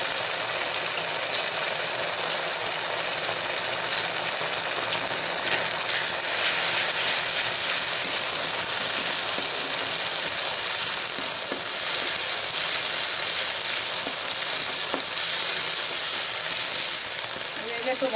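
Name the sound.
ginger cumin paste frying in a pan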